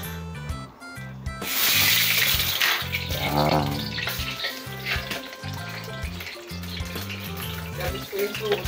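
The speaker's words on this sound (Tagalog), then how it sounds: "Ganon din hugasan natin ang ating dried kalamyas, mabilis ang hugas lang." Dried kamias (kalamyas) rinsed quickly under running water in a home kitchen, a steady splashing rush starting after a brief pause and continuing under rhythmic background music.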